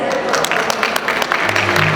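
Wedding guests applaud at Emerson and Zulema's celebration, a steady dense patter of many hands clapping close by for about two seconds, with a voice speaking briefly near the end.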